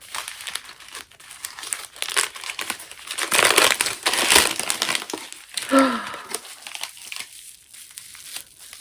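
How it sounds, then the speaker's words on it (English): A gift wrapped in cellophane is unwrapped up close, with loud, irregular crinkling and crackling that swells in the middle and then eases off. "I have one right here, and I'm gonna unwrap it."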